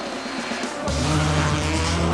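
Rally cars in the 2005 Acropolis Rally super special stage in Athens' Olympic Stadium, one engine roaring loudly near the end with tyre noise over a steady crowd din.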